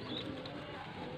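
Pigeon cooing faintly in a bird setup in Faisalabad, a soft low murmuring coo over a quiet hiss of background noise.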